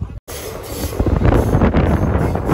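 Intercity SuperFast Express train running between Bhubaneswar and Visakhapatnam, heard from inside a crowded general coach: a loud, steady rumble and rattle of wheels and carriage with wind buffeting throughout.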